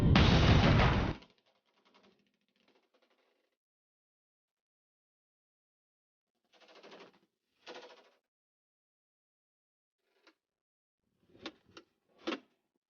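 Gunfire at a Navy SEAL basic shooting-and-moving training range: one loud, sustained burst of shots at the start, then short, scattered bursts after a long pause, with sharp rapid reports near the end, no talk.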